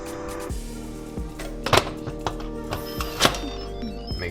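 A pressure cooker lid being set in place and sealed over beef tongue in water: several sharp thunks and metallic clicks close by, with one louder clatter midway, over a faint steady background hum.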